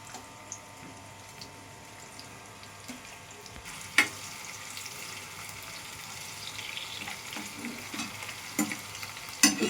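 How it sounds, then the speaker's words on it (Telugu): Sliced onions and green chillies fry in hot oil for a fish curry, a soft continuous sizzle close by, broken by a few sharp utensil knocks against the pan. "ఆయిల్ మరిగింది కదండి, ఇందులో ఉల్లిపాయలు వేసుకోవాలండి."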